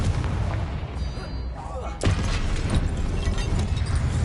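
Confringo blasting spell explosion in Hogwarts Legacy: a single sharp booming burst about halfway through, rising over a dense bed of game ambience and effects that continues after the blast.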